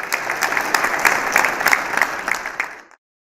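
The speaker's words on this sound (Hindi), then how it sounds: "आपकी तालियों के बीच" Audience applause at an Indian Republic Day poetry mushaira inaugural ceremony: a dense, steady clatter of many hands lasting about three seconds, then cutting off abruptly into silence.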